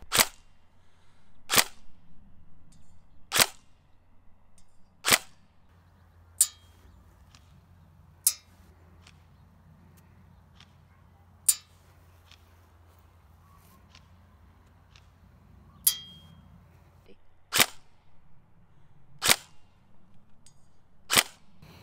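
Tokyo Marui airsoft gun firing at a 50-metre target, about a dozen sharp distant snapping shots spaced a second or more apart over quiet outdoor background.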